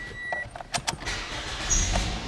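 A 2014 Toyota Yaris with a 1.5 liter engine cranks briefly, then catches and settles into a steady idle, heard close up with a few clicks beforehand.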